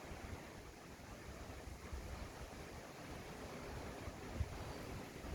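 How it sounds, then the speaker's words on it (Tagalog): Steady rushing wash of waves on open water churned by a typhoon, with wind buffeting the microphone throughout and no clear individual breakers standing out. "Nalalaki ng halon."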